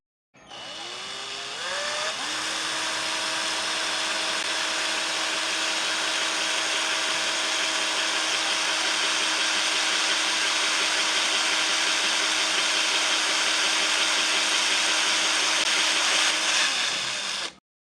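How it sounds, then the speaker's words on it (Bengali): A homemade cordless drill with a drill bit running into a PVC sheet, spinning up to a steady high whine that holds for about fifteen seconds before winding down, close and loud, with no voices. "সবার আগে আমি এই পিভিসি শীটে ড্রিল করব।"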